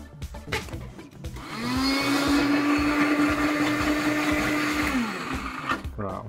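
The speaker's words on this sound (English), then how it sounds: "this is actually one of the large liquidizers, not a food processor" A large liquidizer chops cauliflower pieces with a loud, steady motor whine that runs for about three seconds, then cuts off. Brief clatter comes before and after.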